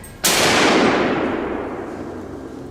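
A single loud gunshot from a hunter's gun fired at a wild boar, a sharp close blast that cuts in suddenly and rings out into a long fading rumble, with no voices.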